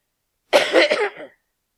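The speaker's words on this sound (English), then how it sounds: "Excuse me for the coughing." A single short, harsh cough close to the microphone, rough and throaty, then silence.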